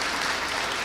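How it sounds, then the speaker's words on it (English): A brief burst of audience applause at an arts and culture grants event, loud and dense for under a second. "let's give them a round of applause"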